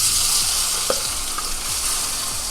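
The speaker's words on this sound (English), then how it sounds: "I'm going to just let this fry for a few minutes" Blended peppers and onions frying in hot oil produce a dense, continuous sizzle with faint stirring scrapes every half second or so, close and steady with no talking.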